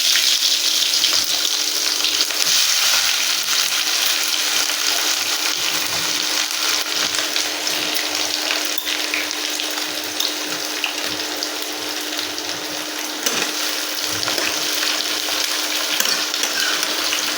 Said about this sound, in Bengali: ভালো করে একটু লাল লাল করে পেঁয়াজটা ভেজে নেব